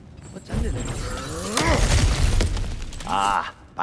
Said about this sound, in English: Ah, back to smashing through things for fun and profit.